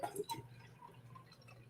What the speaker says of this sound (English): This is the last one out of the 4-pack that I had, so we'll go ahead and pour it up.